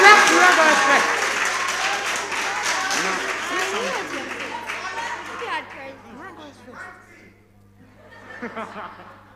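A crowd applauds quiz contestants at a school competition, loud clapping mixed with chuckles and chatter that fades over several seconds, with a brief swell of laughter near the end.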